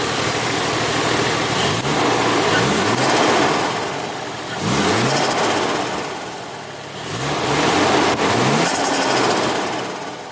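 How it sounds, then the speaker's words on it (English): A Toyota JZX100 engine revs up repeatedly in several surges, with fluttering turbo whooshes as the throttle drops between pulls, loud and close. "you get the nice little turbo flutter now"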